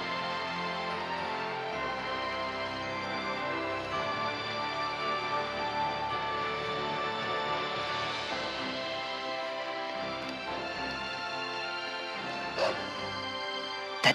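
Dog barking in the video game Tales of Zestiria, carried under a dense, steady bed of game music that runs throughout, with a sharper accent near the end.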